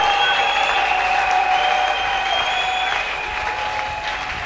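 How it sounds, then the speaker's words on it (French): A church congregation applauds and cheers loudly, with sustained dense clapping and a crowd roar that eases slightly toward the end. "Acclamez pour Jésus-Christ très fort."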